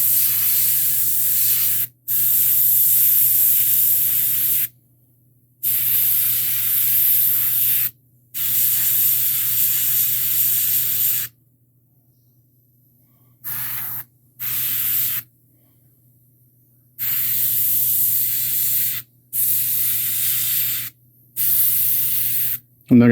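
An airbrush or spray can mists paint onto a metal miniature in a run of loud hissing bursts of one to three seconds each, separated by short silent gaps.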